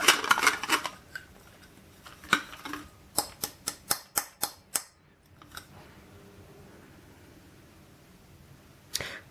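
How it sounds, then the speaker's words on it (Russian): The plastic lid of a metal thermos is unscrewed, producing a quick run of sharp ratcheting clicks that sound close and crisp, followed by quieter handling and a final click. "Давайте открутим."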